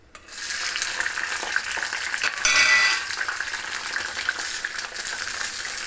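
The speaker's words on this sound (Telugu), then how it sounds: "ఇప్పుడు పచ్చిమిరపకాయలు వేయించుకుందాము" Green chillies fry in a pan with tamarind for a pickle, giving a loud, steady hiss and crackle that swells briefly midway, with no one talking.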